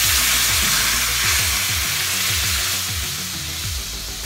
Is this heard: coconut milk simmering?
yes